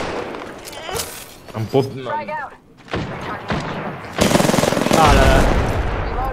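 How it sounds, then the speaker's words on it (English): Rapid bursts of video game gunfire crackle loudly in the second half, with a shorter earlier volley, while players talk over the action. "I hear shots."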